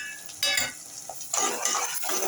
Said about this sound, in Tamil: வெங்காயத்தை நம்ம வதக்கிக்கிறோம்